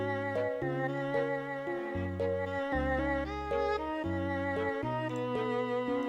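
A song played through BandLab's Universal mastering preset: steady melodic music with sustained bass notes and layered harmonic chords, full and continuous at even loudness.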